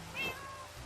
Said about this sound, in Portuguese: Y cuando te pegan hacen como gatos